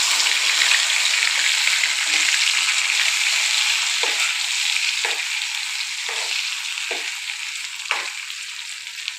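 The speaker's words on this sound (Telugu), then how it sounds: "మొత్తం హాఫ్ బాయిల్ చేసుకున్న తర్వాత మళ్ళీ ఒకసారి ఎర్రగా ఫ్రై చేసుకోవాలి" Half-boiled chicken pakodi pieces deep-frying on high flame, a loud dense crackling sizzle running throughout, with several short scraping stirs spaced a second or so apart.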